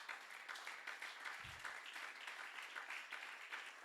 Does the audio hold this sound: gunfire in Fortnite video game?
no